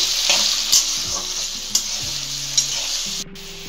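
Onion and garlic frying in hot oil for an egg tadka, a loud, steady hiss broken by a few sharp stirring knocks and scrapes.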